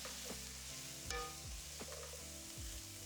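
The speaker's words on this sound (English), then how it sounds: "onions on some real butter with the garlic to get the golden garlic and onions that we love" Garlic and onions frying in real butter, a steady close sizzle with a few scrapes and stirring knocks of a utensil against the pan.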